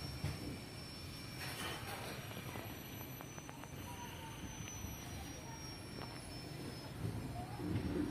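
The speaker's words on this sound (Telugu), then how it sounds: "ఇంకా రేణిగుంట అయితే ట్రైన్ అయితే రేణిగుంట నుంచి అయితే మూవ్ అయిపోయింది" A moving passenger train pulling away from Renigunta junction gives a steady low rumble with faint wheel squeal and rail clatter, heard from inside the carriage, with scattered voices in the background.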